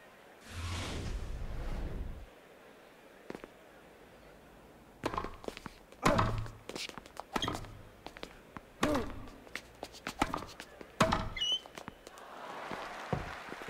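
A forehand strike in the tennis video game Grand Slam Tennis 2, heard as a series of sharp thuds and taps spread across the rally, with a broad noisy burst early on and steady crowd-like ambience underneath.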